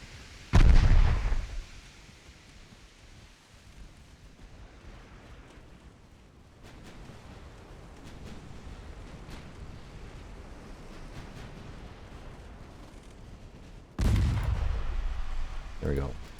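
Naval artillery salvos in a 1904-era battleship game, two loud heavy booms at the start and near the end, with rumbling sea and wind noise between them.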